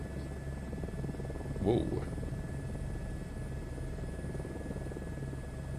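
Helicopter in Microsoft Flight Simulator 2024 settling into a hover over scrubby bushes near the Grand Canyon, a steady droning rotor and engine hum running throughout, with a brief exclaimed voice midway.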